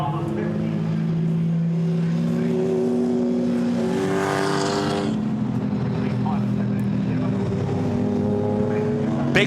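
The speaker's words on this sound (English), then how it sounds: "the field now lining up behind the safety car" GT race cars at Oulton Park in a round of the British GT Championship, engines droning steadily and fairly close as the field bunches up behind the safety car, with a commentator talking over the continuous engine noise.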